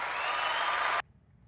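Canned applause from a button-press sound effect, a loud burst of clapping that runs steadily for about a second and then cuts off abruptly into near silence.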